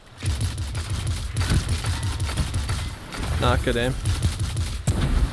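Rapid auto rifle gunfire in an online shooter video game crackles in dense bursts throughout, with a player talking over the shots.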